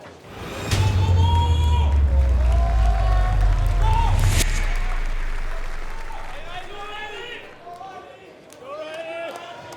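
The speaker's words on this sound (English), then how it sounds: "you can hear the crowd into it here" A loud crowd at an esports world finals event roars and cheers with a low rumbling boom, fading gradually into murmuring voices before swelling again briefly.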